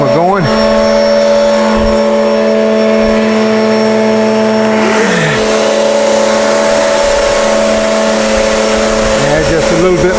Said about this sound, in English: Get my vacuum going.